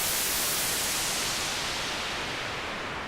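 Synthesizer noise run through a low-pass filter as the cutoff is pulled down: a loud, dense hiss that gradually loses its bright top end and turns duller over a few seconds, with no voices.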